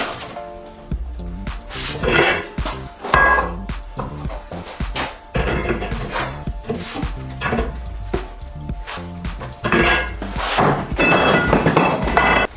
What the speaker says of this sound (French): On va le mettre dans l'étau et on va le redresser à l'aide d'un tube qui est un tout petit peu plus large.